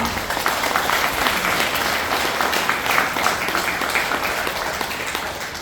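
Sustained applause from a large audience at a Lions Club president's inauguration ceremony, dense steady clapping that fills the whole stretch without pause.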